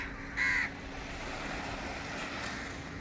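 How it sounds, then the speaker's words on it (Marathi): A crow caws once, loud and close, over a steady wash of seaside ambience at Dadar beach in Mumbai, then the background hum continues alone. "कावळे पण आलेत"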